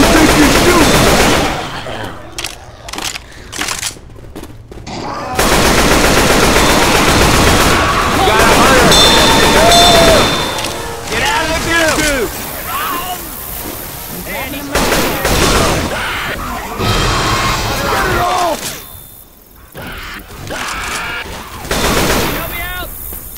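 Gunfire in the Left 4 Dead 2 video game, rapid automatic bursts and shots repeating loudly with brief gaps, mixed with game effects and occasional voices talking over the action.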